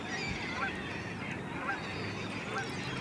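Many birds, honking like geese, call together at Verona Beach State Park on an autumn day, a continuous noisy chorus of overlapping cries at moderate distance with no talking.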